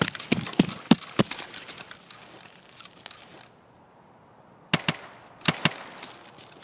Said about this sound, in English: Let's get away from here and head towards the shooting.